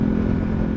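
A Euro Rock R125 motorcycle engine running at a steady, even drone, close and fairly loud throughout a brief moment, with no voices.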